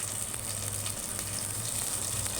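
Tomatoes frying in a pan with salt added, being stirred for a Tamil greens dish; a steady close sizzle runs throughout with soft scraping, and no talk.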